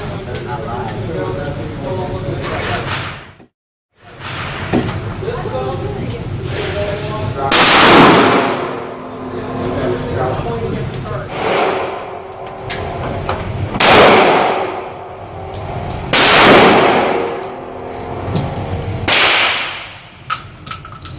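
A Stoeger Coach Gun 12 gauge side-by-side double barrel shotgun fires slugs, several loud sharp blasts spaced a few seconds apart, each with a ringing tail, between stretches of speech.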